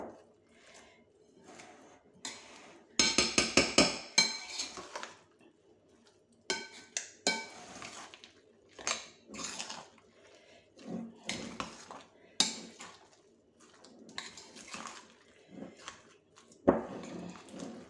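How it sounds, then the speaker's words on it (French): A utensil stirs and scrapes through vegetable cake batter in a bowl, giving bursts of clinking and knocking against the sides with quiet pauses between strokes. "Je vais bien mélanger."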